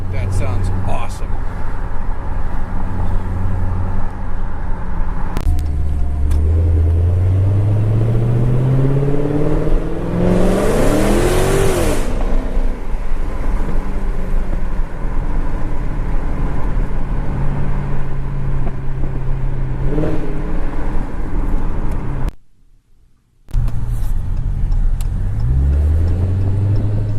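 A Dodge Hellcat fitted with a Bwoody intake accelerates hard, its supercharger whine climbing in pitch with each run and sitting over the engine's roar, heard from inside the car along with occasional excited talk.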